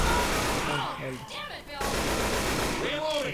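Gunfire in Left 4 Dead 2: rapid shots crackle in bursts amid game noise while someone talks excitedly over them.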